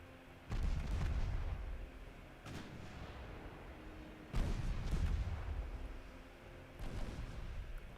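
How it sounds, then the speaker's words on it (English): Warship secondary guns in the naval game Ultimate Admiral Dreadnoughts fire on a transport: four heavy booming salvos spaced a couple of seconds apart, each leaving a rumbling decay, fairly distant and moderately quiet. "Let's go finish off this transport with the secondary guns"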